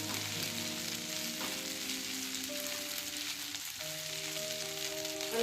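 Garlic, ginger and green chilli paste frying in a pan over medium-high heat, an even, dense sizzle with a faint steady hum underneath, close and continuous without speech.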